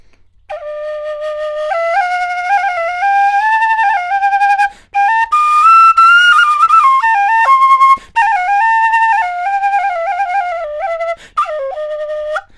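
A flageolet whistle plays a clear, close melody of smooth stepped notes with a soft, warm tone. A few short breaks in the line lead into a brighter, breathier passage in the middle.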